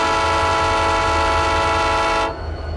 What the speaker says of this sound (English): So here we go, single horn.